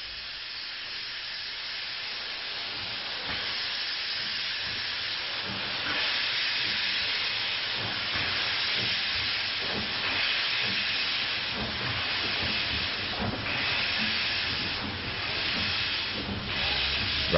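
A large steam locomotive works along a double-track main line on the Great Central Railway between Loughborough and Leicester, heard as a loud, steady hiss and roar with rhythmic chuffing pulses that build slightly, and no voices.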